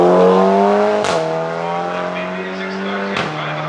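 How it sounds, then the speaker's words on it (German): An Audi A3 TFSI Group H race car on a hill climb at Bad Liebenstein: a loud, steady engine note with two sharp gear-change cuts, close by, with faint talk underneath. "fährt mit dem wunderschön aufgebauten Audi A3 TFSI in der Gruppe H"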